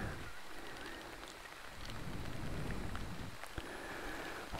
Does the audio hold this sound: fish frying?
no